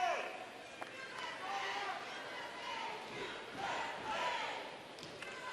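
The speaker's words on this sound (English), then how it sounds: "Very lively Friday morning crowd." Lively Friday morning crowd at a curling arena during a Canada versus Sweden men's world championship round-robin game, a continuous hum of chatter and cheering voices that swells and dips, with a commentator speaking over it.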